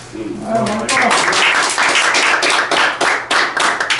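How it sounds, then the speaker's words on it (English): An audience at a listing agreement presentation claps loudly and steadily for a presenter, the dense patter holding throughout with some voices mixed in. "So please give him a round of applause."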